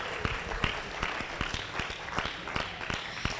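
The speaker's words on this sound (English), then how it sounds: "Give that a round of applause." Audience applause at an agripreneur prize competition finale, with distinct individual claps layered over a dense wash of clapping, sustained and fairly close.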